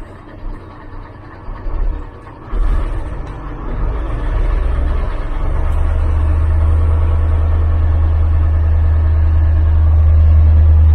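A truck engine, revved with a manual hand throttle, climbs from a low idle to about 1500 rpm, then settles into a loud, steady, deep drone that grows slightly heavier as it holds.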